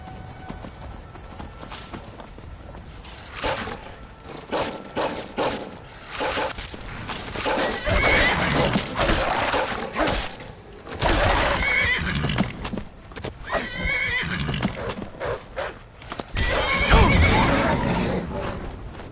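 Horse in the game Skyrim galloping with rapid hoofbeats and loud whinnies, the clip-clop running throughout at close range.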